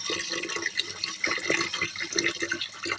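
Rinsed rice being drained, water running and splashing steadily out of the pot into a sink, a continuous close trickle and spatter with small drips and no talking.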